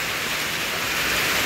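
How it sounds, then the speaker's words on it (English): Heavy rain pours down steadily on a carport, a dense, loud, unbroken hiss of water. "it just starts downpouring"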